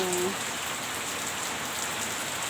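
Steady, dense rain falls out of season over farmland, a continuous even hiss of drops close by with no breaks.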